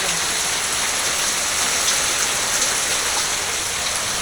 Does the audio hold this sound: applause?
no